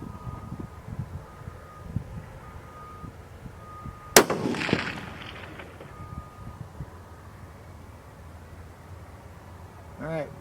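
A single loud rifle shot from a Bergara B14 Wilderness carbon .308 cracks out with a sharp transient and rolling echo, amid wind and quiet outdoor background.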